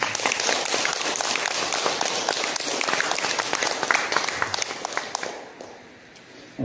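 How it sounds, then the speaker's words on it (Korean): Worshippers at a Buddhist temple service clap in a loud, crowded round of applause that holds for about five seconds, then thins out and fades to near silence. "생각지도 않는데 박수를 주십니다."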